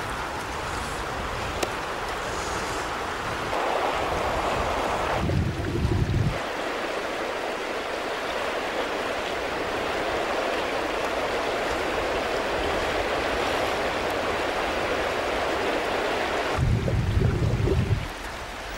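River water rushes and breaks over rocks and a large boulder midstream in Laxá á Refasveit, a loud, steady roar of flowing water that stays close and constant throughout, with brief deeper surges.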